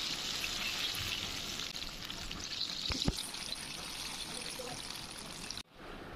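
Pieces of chicken popcorn frying in oil in a pan give a steady, close sizzle for most of the clip. A brief clatter comes near the middle, and the sound cuts off abruptly near the end.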